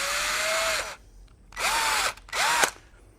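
A power drill enlarges a hole in a small wooden birdhouse ornament in three bursts: a long whine that spins down, a pause, then two shorter runs with rising pitch as the bit spins up, close and loud.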